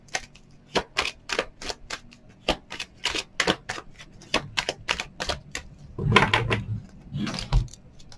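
Tarot cards are shuffled and pulled at close range, producing a steady run of crisp, sharp card clicks and riffles, with a denser flurry of shuffling near the end.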